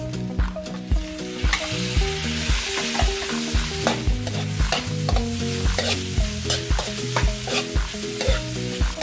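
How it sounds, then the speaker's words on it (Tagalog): Pork fries in a pan with tomatoes, giving a steady, close sizzle. Rhythmic stirring scrapes recur about once a second throughout, over faint tonal background sound. "Ito pong ating baboy, kailangan pong lutuin lang natin siya ng mga 20 minutes."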